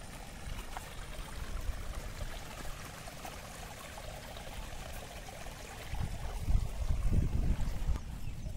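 Stream water flows along the Chitravathi river in a faint, steady rushing wash, with heavier gurgling surges toward the end.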